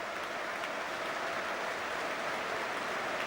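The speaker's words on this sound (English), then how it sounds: "It's good to see the Reading fans applauding as well." Football fans at Reading's stadium applauding during a 2006 Premier League match against Chelsea, a steady, even wash of clapping from a large crowd heard at a distance, fairly faint and unbroken.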